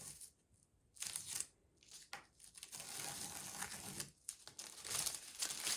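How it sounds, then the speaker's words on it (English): Tape is peeled off the edges of a watercolor galaxy painting, giving quiet crinkling and tearing strips in several short bursts, close and alone. "I'm going to take off the tape to do the big final reveal on here"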